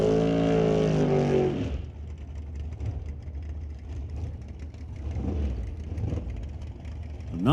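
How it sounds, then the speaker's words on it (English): A drag racing car roars through a short burnout at a Lordco Auto Parts Smoke Fire and Thunder qualifying session, a loud rising engine scream that drops after two seconds into a lower rumbling idle. "Not much of a burnout for Steve Horn."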